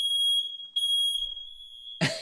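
A smoke alarm set off by hookah smoke gives a steady, piercing high beep that runs near and loud for about two seconds, breaks briefly, then ends in a short burst of rustling noise.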